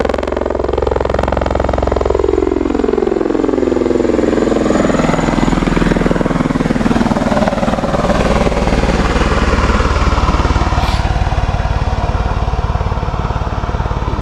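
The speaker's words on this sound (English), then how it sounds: "That's a cool helicopter." A helicopter roars loudly and steadily nearby, its engine whine and thudding rotor shifting in pitch as it passes, with no voices.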